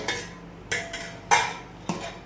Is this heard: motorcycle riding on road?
no